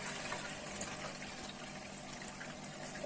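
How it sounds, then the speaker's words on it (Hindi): Aloe vera juice strained through a cloth tied over a pot and poured into another pot, a steady close liquid pouring and gushing that runs unbroken throughout. "तो मैं इसको छान रहा हूँ। दूसरे पतीले में पलट रहा हूँ मैं।"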